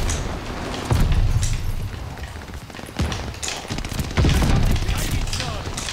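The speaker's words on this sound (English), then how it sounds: "I'm just toss a nade and run." Grenade blasts in Call of Duty: Vanguard: heavy booms at about one, three and four seconds, set among loud, dense gunfire and game noise.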